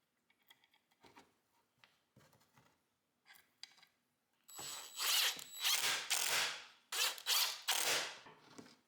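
Pocket hole screws driven with a power drill into a clamped narrow wooden table piece, a few faint clicks and handling noises first, then several loud close bursts of whirring driver and screw grind.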